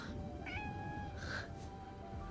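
A cat meows twice in a TV show scene, with a rising call and then a longer one, heard clearly over steady background music with no talk.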